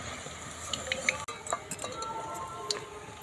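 Suji pitha, a semolina and milk sweet, frying in hot oil with a soft steady sizzle, small clinks and stirring scrapes from a utensil nearby.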